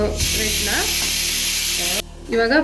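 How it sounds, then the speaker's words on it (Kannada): Bread pieces fry in a pan with a loud, close, continuous sizzle, briefly dropping before it resumes, while faint voice-like tones sound over it. "ಇದೇ ಥರ ಎಲ್ಲನೂ ಫ್ರೈ ಮಾಡ್ಕೋಬೇಕು ನಾವು."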